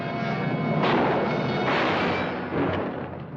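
Rapid gunfire in a western movie shootout, loud bursts of shots crashing in close succession and swelling twice over a continuous rumble, with no talk.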